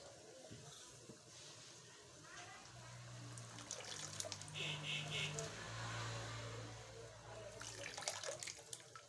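Running water from a tap splashes steadily while ingredients are washed into a pressure cooker, with a car-like hum and some faint background noise.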